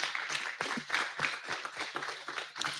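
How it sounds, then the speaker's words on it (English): A small audience at a diaspora conversation event gives a short round of applause, with scattered irregular claps that sound fairly faint and distant. "Round of applause for Eric."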